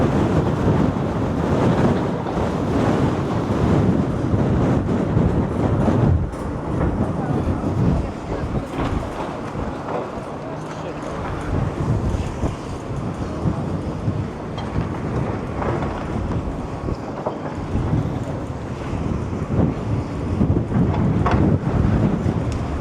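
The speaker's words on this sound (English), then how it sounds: "this wind's definitely picked up since this morning" Strong wind gusting on the Blackpool seafront, a loud continuous roar buffeting the microphone, with surf and waves mixed underneath and a brief voice heard during the gusts.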